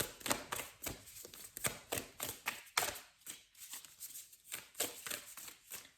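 Tarot cards are shuffled by hand in a quick, steady run of soft riffling flutters, close and fairly quiet, with no talk.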